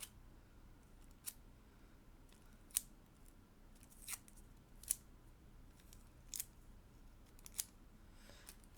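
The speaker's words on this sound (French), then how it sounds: "Et on découpe, on découpe." Scissors cut through card and glued paper for a miniature cotton candy shop model, giving about eight crisp, separate snips at irregular intervals over a quiet background, close and clear with no talk.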